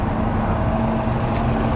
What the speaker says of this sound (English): urban buses.